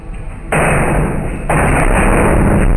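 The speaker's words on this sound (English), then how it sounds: "a series of super loud bangs on the wall are heard, the mirror shakes violently, and then a sculpture falls down" Loud, heavy bangs strike a wall inside a home, rattling a mirror, followed by the thud of a sculpture falling; two big sustained impact surges dominate, alone with no talk.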